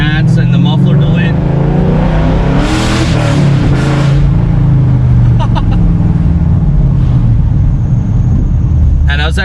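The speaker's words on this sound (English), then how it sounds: "this car definitely does sound really good" A 2005 Ford Mustang GT V8 with long-tube headers, high-flow cats and a muffler delete rumbles loudly from inside the car, with a deep steady drone that swells as it revs.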